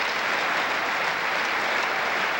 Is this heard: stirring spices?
no